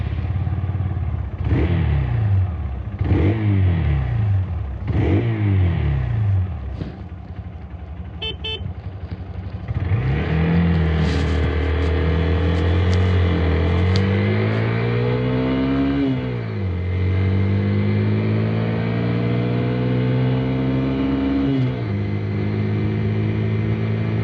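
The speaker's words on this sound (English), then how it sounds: "Ring it out though, and some noise will become audible, as Greg shall now demonstrate." A Hero XPulse 200 motorcycle engine is revved repeatedly, rising and falling in quick blips, then held through sustained higher revs with shifting pitch, loud and close throughout with no speech.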